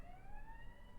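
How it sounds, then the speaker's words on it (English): Faint fire truck siren with a rising, wailing tone, very short and distant, heard over a low rumbling background. "Siren! Siren! Bam, bam. It's a fire truck."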